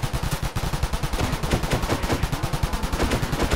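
A minigun from a Minecraft gun mod fires a rapid, continuous stream of evenly spaced shots, loud and close, with no pauses for the full stretch.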